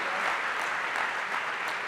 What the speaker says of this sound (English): Once more, ladies and gentlemen, a massive round of applause for our first inductees of the Randstad Williams Engineering Academy.